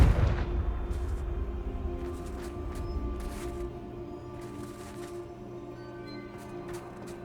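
Confringo fire spell explosion in the Hogwarts Legacy video game: a single deep booming blast opens, then a long rumbling decay lingers with faint crackles, fairly loud, with no talking.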